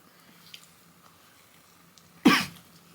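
A single short cough near the end, close and fairly loud, after a few seconds of quiet background.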